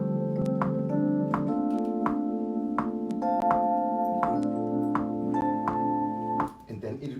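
Scarbee Rhodes electric piano plug-in in Logic Pro, sustained mellow chords ringing over a steady, evenly spaced click track, stopping just before the end.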